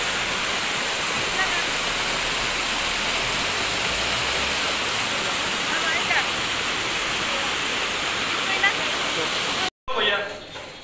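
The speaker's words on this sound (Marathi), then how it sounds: "तिथे खराडीमध्ये हा मस्त असा वॉटरफॉल आहे" A waterfall at Kharadi roars as a loud, steady rush of broadband water noise. It runs unbroken until a brief cut near the end, after which a quieter, wind-buffeted tail follows.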